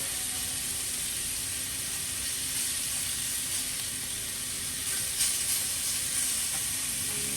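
A soft, continuous hiss of blackened seafood frying in a hot pan, steady and fairly quiet with a faint crackle, no voices.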